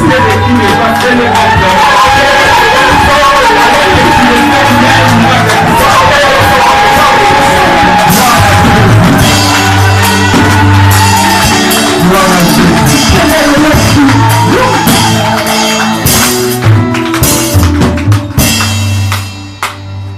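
A church congregation cheers and acclaims loudly and without pause, a dense roar of yells, whoops and shouts filling the room, with an amplified voice and instruments mixed in.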